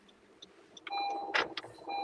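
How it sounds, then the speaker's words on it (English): Car noise leaking through a caller's microphone during a livestream, with a steady hum, a few faint beeps and clicks, and a louder burst of rattling road noise partway through. "CJ, I can't hear because your audio is picking up car stuff."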